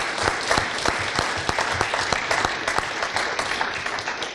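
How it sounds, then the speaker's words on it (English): An audience at a marketing panel event applauds, a dense crowd of clapping with several close, distinct hand claps punctuating it rhythmically throughout. "they deserve one more round of applause"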